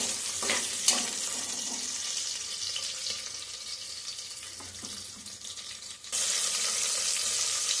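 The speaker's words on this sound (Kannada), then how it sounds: "ಈಗ ಎಣ್ಣೆ ಕಾದಿದೆ, ಈರುಳ್ಳಿ ಸೇರಿಸ್ಕೊತಾ ಇದ್ದೀನಿ. ಈರುಳ್ಳಿ ಹಾಕ್ಕೊಂಡು ಚೆನ್ನಾಗಿ ಬ್ರೌನ್ ಕಲರ್ ಬರುವವರೆಗೂ ಫ್ರೈ ಮಾಡ್ಕೋಬೇಕು" Sliced onions dropped into hot oil for green chicken biryani, a steady close sizzle and hiss with scraping stirs, then a sudden louder burst of frying toward the end.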